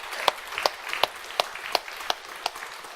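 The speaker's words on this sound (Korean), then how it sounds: "죽었다가 살아나신 우리 주 예수 그리스도께 감사의 박수 한번 올려드리겠습니다" Congregation applause during a Sunday church service, eight or nine sharp, evenly spaced clap peaks standing out over a steady wash of hand clapping from the crowd, moderately loud and with no talk.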